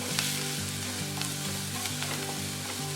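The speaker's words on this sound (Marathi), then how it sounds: "कांदा आपल्याला मंद गॅसवर अगदी गुलाबी होईपर्यंत छान परतून घ्यायचा आहे" Onion sautéing in a little oil over a low flame for a Malvani cashew curry, a steady close sizzle with soft stirring clicks running through the whole stretch, with no voices.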